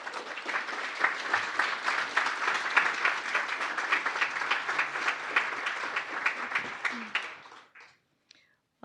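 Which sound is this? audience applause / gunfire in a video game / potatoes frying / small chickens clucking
audience applause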